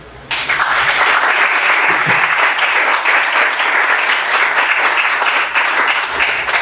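Sustained audience applause at a closing ceremony of an academic research colloquium, a dense, loud wash of many hands clapping together that begins abruptly and holds steady throughout.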